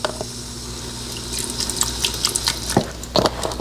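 Fat-free reduced sodium beef broth splashes steadily into an Instant Pot, a continuous close liquid pour with small bubbling splashes and drips throughout, with no talking.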